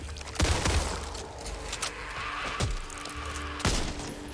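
Rapid bursts of gunfire in the zombie shooter Back 4 Blood, sharp repeated shots with booming impacts, loud and close, spaced irregularly over a droning game background.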